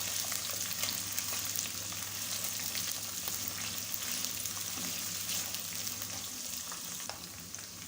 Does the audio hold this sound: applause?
no